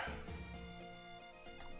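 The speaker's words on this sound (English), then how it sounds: "Dog." A dog barks and yips in the Wargroove video game, a brief faint bark set against a loud musical soundtrack.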